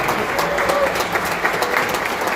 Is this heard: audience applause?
yes